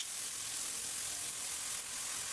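Soy sauce hisses into a hot pan with meat and rosemary, giving a steady, bright frying sizzle at close range with no talk.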